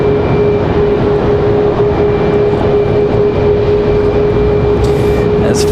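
Frontier airliner jet departing the airport, a sustained loud rumbling roar with a steady tonal hum layered on top, continuous and even, with a brief hiss near the end.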